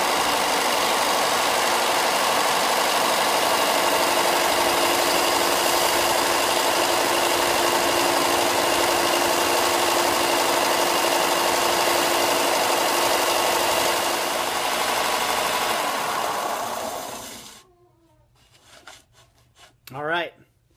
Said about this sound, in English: I'll do that on the top of the belt sander